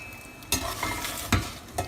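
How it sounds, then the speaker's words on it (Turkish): A spoon scrapes and stirs through a thick garlic sauce in a pot, a few distinct strokes over a soft background sizzle. "Ben de o sırada şöyle karıştırayım güzelce."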